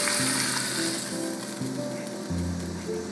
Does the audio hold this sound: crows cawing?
no